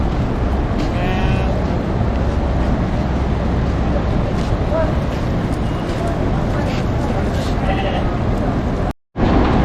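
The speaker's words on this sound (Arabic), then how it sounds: "ها انتم كما كتشوفوا اجواء ديال الخرفان رائعة ما شاء الله" Sheep bleat over and over at the Al Wakra livestock market in Qatar, a dense, loud, continuous crowd of animal calls mixed with market bustle, cut off briefly near the end.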